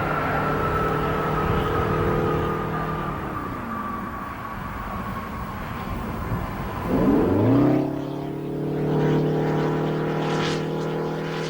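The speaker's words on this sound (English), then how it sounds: "Columbia now rolling out on runway 33 at the Kennedy Space Center" Space Shuttle Columbia rolls out on runway 33 at Kennedy Space Center after touchdown on its 1996 STS-75 mission. A steady whining drone with tones that slide downward, surging and shifting midway, then settling into a sustained hum, with no talk.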